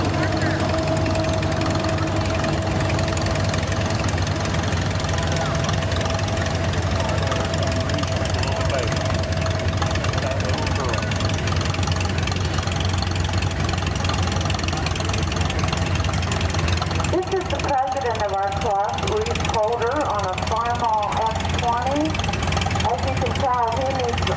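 An antique tractor engine runs steadily and loudly in a tractor show parade, a continuous close rumble with voices talking over it toward the end.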